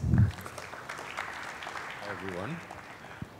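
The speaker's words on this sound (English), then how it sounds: "let us welcome our distinguished panelists with a round of applause" Audience applause welcoming panelists at a discussion event, fairly steady at moderate level, with a speaker's voice rising over it partway through.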